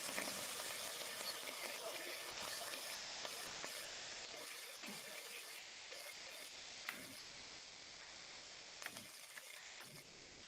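Cloves, whole black pepper and turmeric sizzle in a very hot pan with a steady, faint hissing crackle, continuous and without talk throughout.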